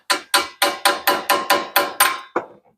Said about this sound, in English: I got a little hammer so I can get it started square.